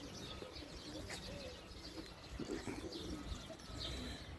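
A pigeon coos softly amid faint outdoor background noise, with a few low calls spread across a few seconds and some light chirping nearby.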